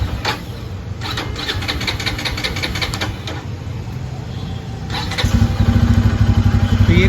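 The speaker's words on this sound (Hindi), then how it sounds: "और अगर मैं गाड़ी को स्टार्ट करूँ न्यूट्रल पे" A 2024 Bajaj Pulsar motorcycle is started in neutral: the electric starter cranks with a rapid whirring for several seconds, then the engine catches and settles into a loud, close, throbbing idle.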